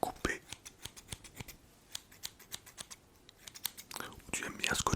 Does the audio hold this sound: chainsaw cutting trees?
no